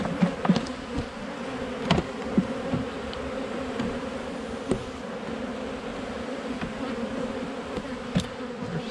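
Dense, steady buzzing of many honey bees swarming around an open hive while frames are shaken off, with occasional soft knocks and taps over the continuous drone.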